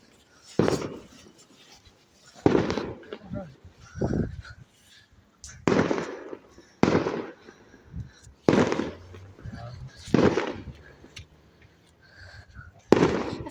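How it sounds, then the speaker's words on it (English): Bonfire night fireworks pop and bang in repeated separate bursts at irregular intervals, moderately distant, while people talk nearby outdoors. "What fireworks did they just set off?"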